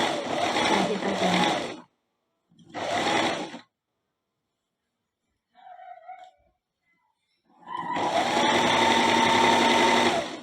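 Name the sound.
sewing machine stitching cotton batik fabric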